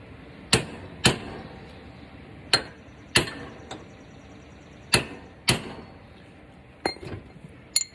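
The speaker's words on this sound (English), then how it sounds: "hammer the bracket" A broken bracket on a Husqvarna LGT2654 riding mower is hammered back together: about nine sharp, ringing metal strikes land close up at irregular intervals, with a few quick lighter taps near the end and no talking.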